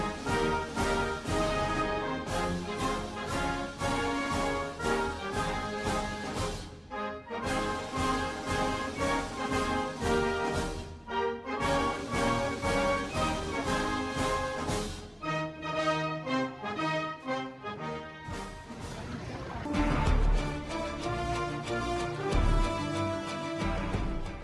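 A national anthem plays on a race podium: full orchestral music, steady and loud, with sustained brass and strings swelling into a grand, ceremonial anthem with no voices over it.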